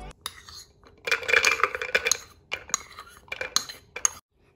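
Dry almonds drop into a blender jar in a kitchen, a burst of hard rattling clatter and clinks that comes in a few quick bursts, with short quiet gaps between.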